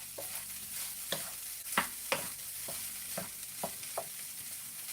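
Fried rice sizzles softly in a pan while a spoon stirs and presses it, a steady hiss punctuated by about a dozen distinct scraping knocks at uneven intervals, close and without talk.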